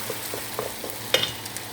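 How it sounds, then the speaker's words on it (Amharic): Onions fry in a pan for chicken salona with a faint, steady sizzle and a few soft crackles and stirring clicks, all without talk. "ሽንኩርቱን በዚህ መልኩ እየጠበስኩ"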